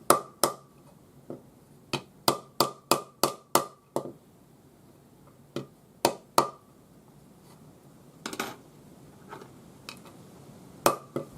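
A metal bangle is hammered flat against a piece of timber. Sharp, ringing taps come in quick bursts of several blows separated by brief pauses, close and distinct, with quieter taps later on.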